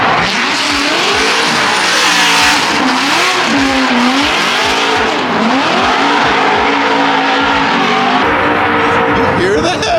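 Drift cars at Formula Drift Long Beach 2023, street circuit by a wall: engines wail and rise and fall in pitch through sustained tire squeal and screeching slides, loud and close, with crowd voices mixed underneath.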